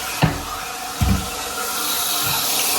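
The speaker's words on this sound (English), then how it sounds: "Water's filling up in the bowl." Water rushing and running steadily into a newly installed toilet bowl as it refills after a flush, a continuous wash of sound with a couple of soft thumps near the start.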